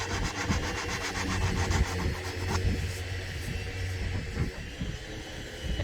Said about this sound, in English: alternating between belt sanders to orbital sanders and then hand sanding